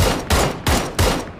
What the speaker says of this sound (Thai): มันยิงกันไม่พักเลยวะอันนี้ในโกดังยิงคนอื่นตายไปละ